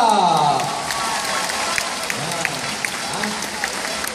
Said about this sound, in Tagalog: Palakpakan naman natin, Attorney Rainier Estrella.